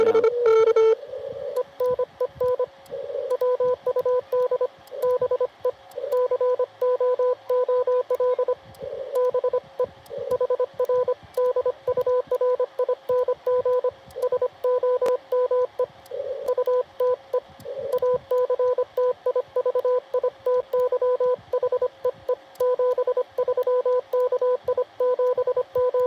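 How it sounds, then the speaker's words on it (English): Amateur radio receiver audio at an outdoor Parks on the Air station at Fort Deseret, Utah: a steady tone keyed on and off in rapid Morse-like bursts, continuous throughout over a faint background hiss. "I'll try to turn my radio down."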